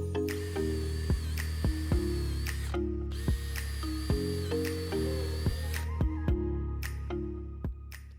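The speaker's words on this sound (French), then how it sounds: "Et pour le perçage, les trous du fond, je vais faire des trous de 12 pour les plus gros tournevis" A power drill bores 12 mm holes in wood for a screwdriver rack, its motor whining up and down in repeated close bursts with sharp ticks and clicks between runs, no voices.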